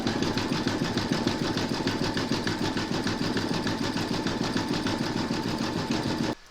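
A sewing machine runs a fast, even satin stitch around a flower on a raggy quilt, its rapid needle pulses steady and close for about six seconds before stopping abruptly.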